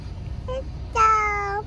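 A voice imitating a cat's meow, a short drawn-out whine after a brief sound, close and clear.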